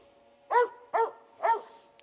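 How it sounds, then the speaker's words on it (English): Dogs bark in three sharp, evenly spaced bursts close by, over a quiet background with a faint steady hum. "Sorry for my dogs. They're just going nuts."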